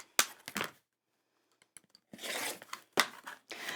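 Scissors snipping through fabric for alphabet appliqué panels, a few sharp crisp cuts near and loud, a quiet pause with faint rustles, then longer rasping cuts.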